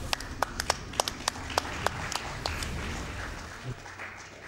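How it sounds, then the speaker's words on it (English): Scattered, sparse handclaps from a small group at an AGDQ 2018 speedrun of Metroid Prime 3: Corruption, a dozen or so sharp claps trailing off over steady background noise. "We need some applause for that"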